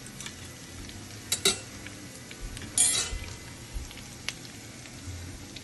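Turmeric and spices frying in a pan for pulihora give a soft, steady sizzle, broken by a few sharp clinks of a utensil against the metal pan and one louder scrape near the middle, with no talking.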